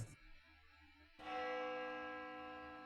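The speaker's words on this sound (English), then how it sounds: "The sound of a bell rings loudly in my ears. It must be coming from the school's clock tower." A school clock tower bell in the video game Spirit Hunter: Death Mark II, a single loud bell stroke after a brief quiet lead-in that rings on with a long, slowly fading sustain.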